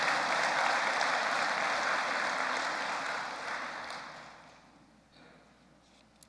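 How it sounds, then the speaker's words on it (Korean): Church congregation applauding elders during a Sunday worship service, a broad steady clapping that gradually fades away over several seconds into near quiet. "참 감사 고맙다는 박수 한번 어르신들께 보내주시면 고맙겠습니다"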